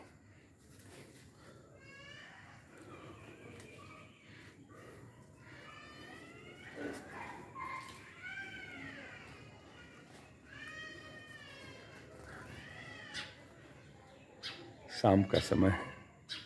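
Birds chirp and whistle in fruit-laden trees in the evening, with repeated bright tweets and short calls over soft ambience while someone speaks throughout.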